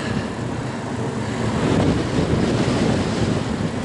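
Strong wind gusting steadily outdoors on a roadside cycling route in Provence, a loud continuous rush and buffeting against the microphone that swells midway, with no voices.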